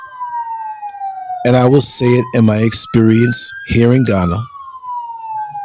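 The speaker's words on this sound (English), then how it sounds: "Yeah, that's an ambulance." An ambulance siren wails in the background, its tone slowly gliding up and down, while someone speaks over it in several bursts.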